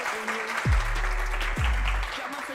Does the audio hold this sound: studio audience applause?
yes